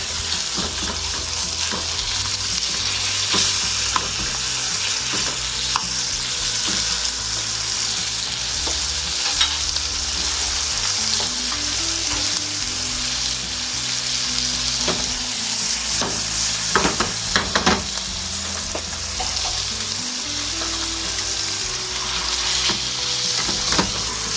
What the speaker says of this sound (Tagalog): Saka natin lutuin ang ating pork chop guys.